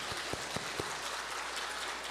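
A small congregation claps during a Korean Sunday church service, a faint, steady patter of hands with a few sharper claps near the start.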